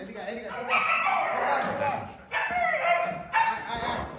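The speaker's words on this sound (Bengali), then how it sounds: "অনেক ডগ আছে।" Several loud, close barks and yips from puppies at a Kolkata dog market come in bursts, overlapping one another with brief pauses between.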